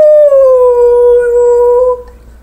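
A dog howls in one long, loud, steady wail that slowly falls in pitch before trailing off, close and alone with no talking.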